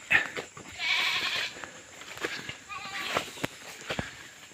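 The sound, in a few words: goat bleating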